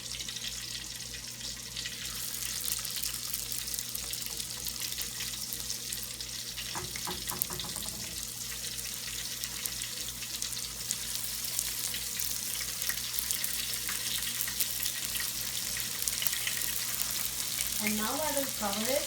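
Chicken balls fry in a little oil in a covered pan for Indo-Chinese chicken Manchurian, giving a steady close hiss and crackle throughout, with faint kitchen sounds and a brief voice near the end.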